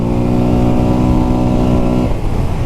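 Polaris Sportsman XP 1000 S ATV engine held at full throttle, a loud steady close-up drone with a strong harmonic whine for about two seconds before the pitch breaks off and drops into rougher engine noise.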